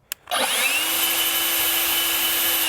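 An EGO LB7654 765 CFM battery leaf blower starts after a brief click, its motor spinning up quickly into a loud, steady, high-pitched whine and airy roar that holds constant at close range.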